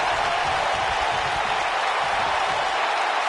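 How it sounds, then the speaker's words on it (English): A wrestling arena crowd in WWE 2K19 gives off a steady, dense roar of murmuring and faint applause, continuous and even in level throughout. "Sounds to me like this crowd's a little shocked to see him on the receiver"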